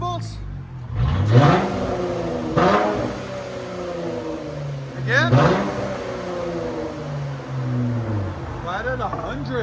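A Dodge Challenger V6 with an aftermarket exhaust revs several times, each blip a sharp rising surge that falls back to a steady idle, heard close while a person talks over it.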